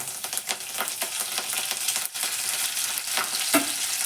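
Curry leaves crackle and sizzle in hot oil at the start of an avarekalu field bean and vegetable kurma, a dense, loud, steady frying hiss with small pops and a few stirring knocks throughout.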